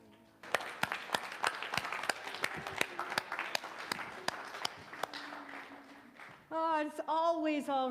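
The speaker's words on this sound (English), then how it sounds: "Let's give him another round of applause" Congregation applause after a song at a church service, sharp separate claps ringing through the room for several seconds, then a voice begins speaking loudly over the fading clapping.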